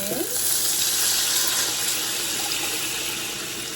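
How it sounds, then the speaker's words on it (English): A steady broad wash of cornstarch and broth pouring into a crockpot, continuous and fairly loud for a few seconds, tapering slightly toward the end with no talking. "we're going to take our cornstarch and broth and pour it"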